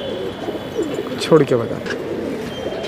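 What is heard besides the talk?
cooing of Lal Chapdar Ambalsare pigeons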